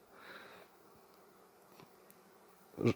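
Honeybees hum faintly at a beehive during a nectar flow, a soft, thin buzz swelling briefly at first and then lingering low, before a sudden close clunk at the end.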